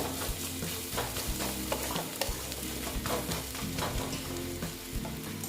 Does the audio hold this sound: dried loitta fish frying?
yes